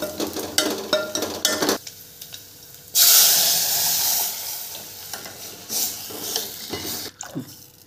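Soaked gram flour batter is poured into hot oil with peanuts, garlic and ginger for a tamarind kadhi, bursting into a loud, hissing sizzle that slowly settles, with stirring clinks before and after.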